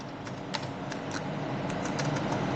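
Keys on a computer keyboard tapped in a short, uneven run of soft clicks over steady background hiss, with no talking.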